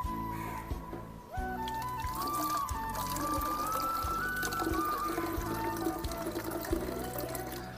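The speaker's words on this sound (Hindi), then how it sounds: "मैं इसमें 100 ग्राम पानी डाल रहा हूँ।" Water is poured steadily into a plastic bottle in a garden pest-control setup, a continuous trickling fill with a rising tone as the bottle fills, heard up close with no talk.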